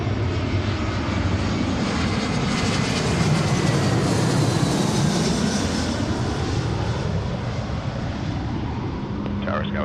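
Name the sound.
United Airlines Airbus A320 from San Francisco landing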